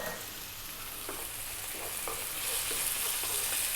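Bell peppers sizzle over high heat with smoked paprika, oregano, cumin and chili powder, making a steady, close frying hiss broken by a few soft stirring scrapes.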